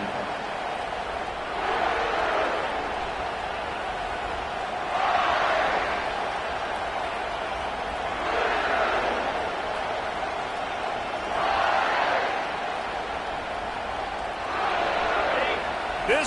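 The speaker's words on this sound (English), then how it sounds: "This crowd bringing the energy and noise early." A large college football stadium crowd roars continuously at an Ole Miss versus Kentucky game, swelling in loud waves every few seconds, with a commentator talking over the din.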